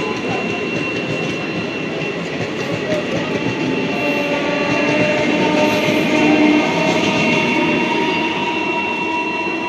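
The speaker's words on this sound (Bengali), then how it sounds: "এটা 3:25 কৃষ্ণনগর লোকাল, এটাও 12 বগির ট্রেন।" A 12-coach Krishnanagar local train on the Sealdah line rolls past close by, with a steady loud rumble and rattle of wheels and carriages throughout and a possible horn tone riding on top.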